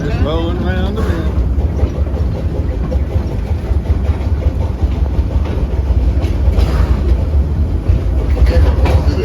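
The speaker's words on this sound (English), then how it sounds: "Hear the train a-coming, just rolling around the bend." A small amusement park train rolls along its rails with steady clattering and rumbling wheel noise, heard under continuous talk throughout.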